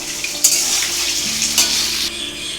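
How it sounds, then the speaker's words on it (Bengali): Ground turmeric, cumin, Kashmiri chili powder, ginger and slit green chilies are stirred into fried potatoes in a hot pan, a steady close sizzle and fry with a few sharp spatula scrapes, and no talking. "এবার এই মশলাটা আমি দিয়ে কষাবো ভালো করে।"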